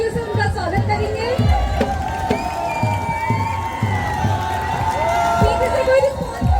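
College live show audience in Haldwani cheering and applauding to welcome a singer, a steady crowd roar with shouts and scattered claps under a rhythmic music beat, with a voice talking over it.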